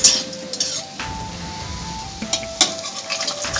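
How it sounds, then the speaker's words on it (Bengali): Fried fish roe fritters are lifted from hot oil onto a plate, giving a few sharp clinks and scrapes of utensil on dish over a steady low sizzle and hiss. "একটা প্লেটের মধ্যে নামিয়ে নিচ্ছি"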